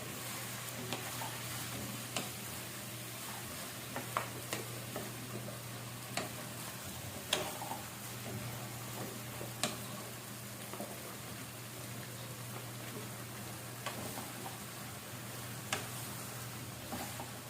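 Onion and okra sautéing in a pan for spicy masala bhindi, a steady soft sizzle running throughout with occasional light clicks of stirring, close and alone without talk.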